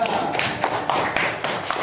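Classroom of sixth-grade pupils clapping for a presenting group, a dense, steady patter of many hands close by lasting the whole moment.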